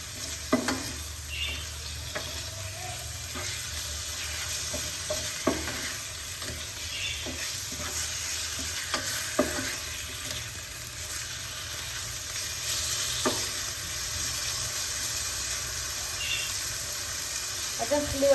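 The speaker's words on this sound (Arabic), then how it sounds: "غادي نخليو هاد الدجاج يتشحر مزيان" Chicken pieces fry and sear in a hot pan with a steady, close sizzle and crackle throughout, broken by occasional stirring clicks from a utensil.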